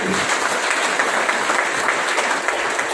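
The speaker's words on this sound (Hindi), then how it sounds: "आज के प्लानर के लिए जोरदार तालियां होंगी" A crowd applauds steadily, dense clapping filling the room at an even, sustained level.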